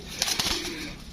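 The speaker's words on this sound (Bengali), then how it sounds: "দুইটা নরের অনেক বড় সাইজের কবুতর। এই যে আমি ছাড়ি" Two large male pigeons being released, giving a brief burst of cooing and soft wing flutter up close, about a second long.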